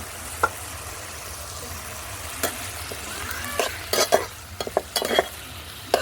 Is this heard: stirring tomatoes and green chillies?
yes